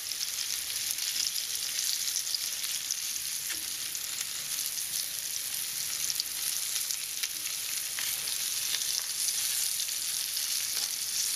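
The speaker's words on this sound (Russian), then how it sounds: "Обжариваем так рыбку до готовности" Fish fries steadily in a pan with garlic, a constant dense hiss and crackle that holds at an even level throughout, close up and without talk.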